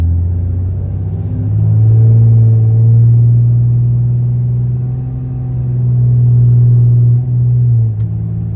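A deleted 4th gen 6.7 Cummins diesel truck accelerating, its deep engine drone swelling and rising steadily in pitch up close, easing off briefly before pulling again, with no talk.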